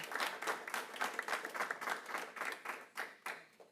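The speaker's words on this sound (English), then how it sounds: "If you could hold your applause till the end" Applause at a county council meeting, a modest group clapping in an audible, pulsing rhythm; individual claps stand out clearly, fairly quiet and close, tapering slightly toward the end.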